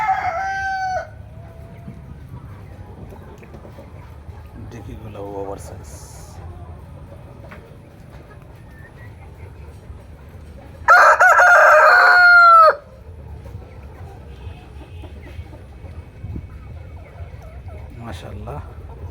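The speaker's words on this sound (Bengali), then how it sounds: "এই মুরগি অনেক সুন্দর ডাকতেছে। মুরগির ডাকগুলো খুব ভালো লাগতেছে।" Chickens at a Bangladeshi farm of desi, Fayoumi, tiger and layer birds: a rooster crows loudly near the start and again mid-way, between softer clucks and calls, while someone talks briefly over the barnyard.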